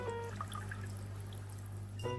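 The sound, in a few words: aquarium water draining through siphon tube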